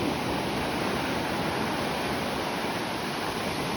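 Sea waves off the coast of Japan give a constant, dense rush of surf and churning water, loud and steady throughout with no voices.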